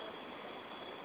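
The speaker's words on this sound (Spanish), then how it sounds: "Una cascada." A waterfall at a river in Chiapas roars as a steady, dense rush of water, loud and continuous with no voices.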